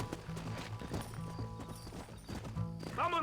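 Horse hooves clatter in a quick clip-clop rhythm while riding out in Red Dead Redemption, close and fairly quiet, with a brief whinny near the end.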